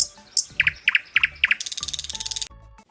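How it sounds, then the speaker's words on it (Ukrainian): A nightingale sings close and clear: sharp repeated whistled notes in quick pairs, then a rapid, rattling trill of evenly spaced pulses that stops abruptly, with no voices. "Як співає соловей? Соловей заливається, свистить, тьохкає."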